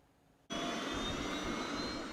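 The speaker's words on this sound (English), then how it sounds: "That's the sound in central Labrador as 20 teenagers climb aboard a chopper." A helicopter in central Labrador as teenagers climb aboard: after a short quiet moment, a loud, steady engine and rotor roar starts abruptly and holds, close by.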